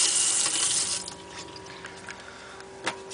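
Water runs steadily from a motorhome sink tap on the pump, a close, continuous hiss and splash that eases slightly after the first second, with a small clatter near the end.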